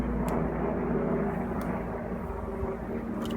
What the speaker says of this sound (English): Helicopters are flying all over today,